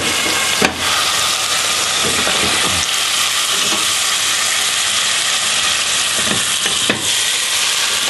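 Pork loin sears in hot butter in a pan for braising, a steady loud sizzle running throughout with a few sharper crackles and spits, no talk over it.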